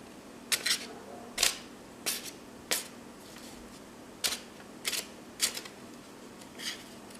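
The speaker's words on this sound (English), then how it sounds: "It puts a tear in it, but it doesn't cut it." A chisel blade ripping through a sheet of paper in a workshop, about eight short, sharp tearing rasps at uneven intervals, fairly close and quiet against a faint steady hum.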